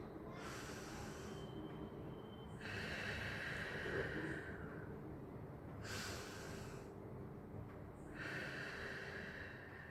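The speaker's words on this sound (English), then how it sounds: "Look down and try to breathe." Slow, deep breathing during a seated lung-expansion exercise, head bowed toward the hands, with long noisy inhales and exhales alternating in a steady rhythm, close and fairly loud, with no talking.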